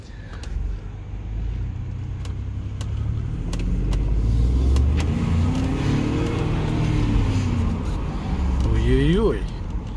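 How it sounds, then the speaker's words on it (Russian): A Ford Expedition MAX pulls hard under acceleration, its powerful engine droning steadily beneath someone talking over it, with a rising whine near the end. "Ребята, что-то похоже на V8, а не на V6, я вам скажу."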